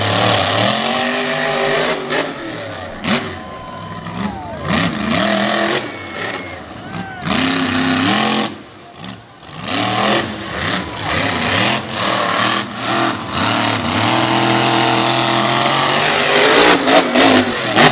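A race car slides around a dirt oval at an all-star homecoming night on the TN/GA state line, its engine roaring and surging continuously, loud and close, with an announcer talking over it throughout.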